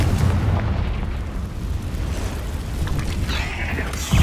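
Confringo spell blasts in Hogwarts Legacy, heard as a heavy, rumbling explosion that stays loud and close throughout, with a fresh boom hitting at the very end.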